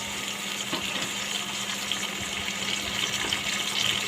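Cardamom, cinnamon and bay leaves fry in oil with onion for a Bengali beef tripe curry, making a continuous close sizzle and hiss with no talk.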